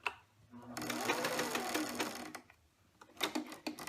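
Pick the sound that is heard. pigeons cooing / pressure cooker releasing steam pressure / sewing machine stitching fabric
sewing machine stitching fabric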